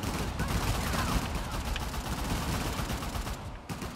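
Rapid gunfire in the video game Uncharted The Lost Legacy, a dense continuous crackle of shots and battle noise that fills the whole stretch without pause.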